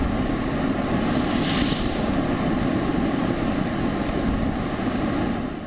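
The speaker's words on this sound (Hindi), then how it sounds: "ताऊ-ते तूफान से भारतीय तटों पर लहरों का उफान देखिए।" Storm waves surge and crash along the Indian coast during Cyclone Tauktae, a continuous roaring wash of surf with heavy wind buffeting the microphone throughout, loud and close, with no voices.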